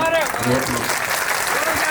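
An audience claps at a temple consecration festival where a local road grant is being announced. The applause is short and dense, and a voice carries over it.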